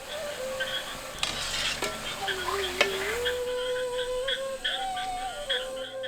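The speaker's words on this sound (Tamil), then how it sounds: "மிதமான சூட்டுல வடை நல்லா வெந்து பொன்னிறமா கிடைக்கும்" Vadai frying in hot oil over medium heat, a soft continuous sizzle and bubbling broken by a few sharp clinks of a utensil against the pan, close up and without speech.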